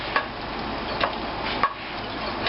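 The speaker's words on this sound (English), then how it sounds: "I'll just give this a little mix." Food stirred in a greased pan on a grill alongside T-bone steaks, giving a few soft scraping clinks spaced about a second apart over a steady low sizzle.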